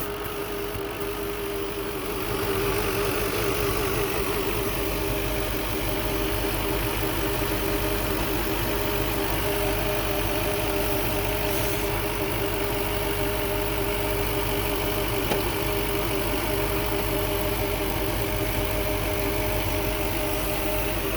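A 2000s Audi A6 4.2 V8 engine idles roughly up close, near stalling, a continuous low rumble with a slightly uneven, shaky vibration running through it.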